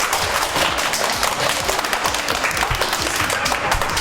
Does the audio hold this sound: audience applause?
yes